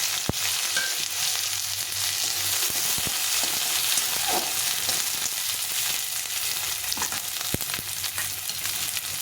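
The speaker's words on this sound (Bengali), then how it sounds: "একটা তেজপাতা দিয়ে এখানে একটা বড় পেঁয়াজ কেটে রেখেছিলাম পেঁয়াজটা দিয়ে দিলাম" Chopped large onion fries with a bay leaf in hot oil for an egg curry, a loud steady sizzle broken by occasional sharp spatula clicks against the pan.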